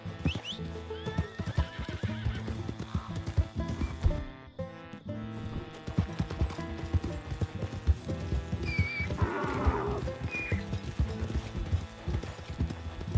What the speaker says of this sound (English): Oh, it is a donkey.